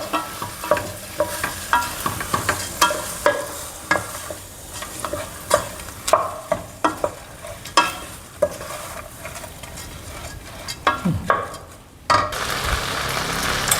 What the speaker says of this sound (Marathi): आता हा चांगला हलावून घ्यायचा आहे